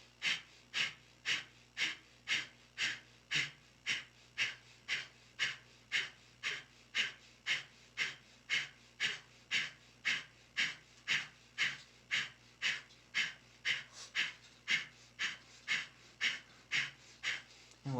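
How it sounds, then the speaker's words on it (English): Rapid, rhythmic Kundalini yoga breath of fire, short forceful nasal exhalations repeating about twice per second in a steady unbroken pulse for the whole stretch, close and clear with a faint low hum behind. "just begin breath of fire now"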